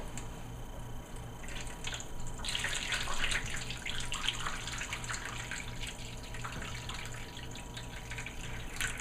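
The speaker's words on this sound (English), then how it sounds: "add in my water" Water pours steadily into a half sheet baking pan around custards for crème brûlée, a soft continuous splashing over a low background hum, fairly quiet and close.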